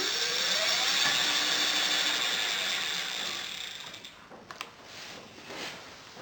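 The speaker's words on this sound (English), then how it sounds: "we're now going to push the thumb throttle and our wheels rotating on the thumb throttle" Electric bike rear-wheel hub motor of a conversion kit, spun up by the thumb throttle so the wheel turns. A steady whirring hum at close range fades after a few seconds, followed by a few light mechanical clicks.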